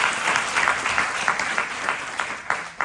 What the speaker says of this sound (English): Everyone please clap for Vaibhav.